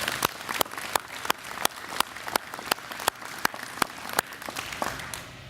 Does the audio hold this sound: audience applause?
yes